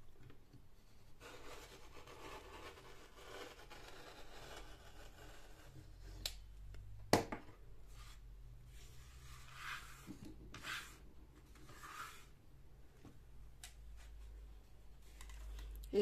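A utility knife trims crochet yarn fringes with faint, close scraping and cutting strokes, then several sharper slicing sounds, quiet throughout with no talking.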